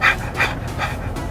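A bear pants rapidly outdoors, with quick, rhythmic breaths that sound close and fairly loud.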